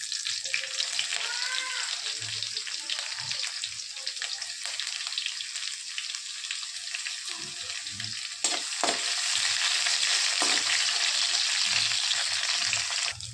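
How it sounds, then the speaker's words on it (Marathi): Garlic and curry leaves fry in hot oil with cumin, giving a constant crackling sizzle close by, with a few stirring knocks and a sizzle that grows louder near the end, without talk. "लसूण थोडंसं लाल झाले"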